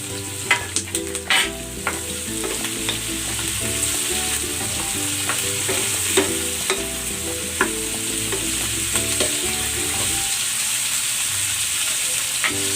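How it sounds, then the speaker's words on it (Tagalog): Squid sizzling and frying in a pan, a steady crackling hiss throughout with clinks and scrapes of stirring near the start, close and fairly loud. "Ilagay na natin dito yung ating pusit."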